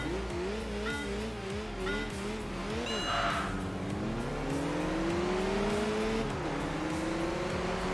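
Racing-game cars howl close by in Enthusia Professional Racing, one engine wavering through shifts while a Mercedes SLR sweeps past with a rising whine; tires squeal briefly and someone talks under the engine noise.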